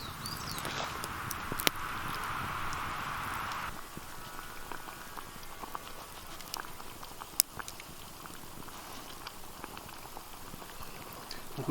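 Beans with bacon simmering in a pot over an outdoor campfire, a steady bubbling hiss that drops lower after a few seconds, with scattered crackles and clicks nearby.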